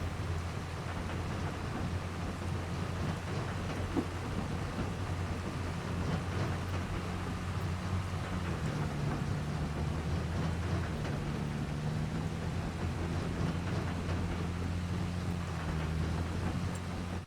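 Steady rain with rolling thunder in a farming video game during a grass silage harvest, continuous and even, with low engine-like rumble underneath.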